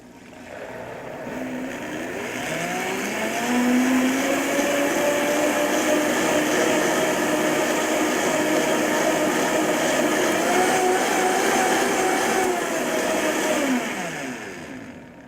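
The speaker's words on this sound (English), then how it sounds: "This is a high-speed blender, an industrial strength blender" An industrial-strength high-speed blender making a tropical green smoothie whirs up to a loud, steady roar, holding a strong motor whine for several seconds before spinning down.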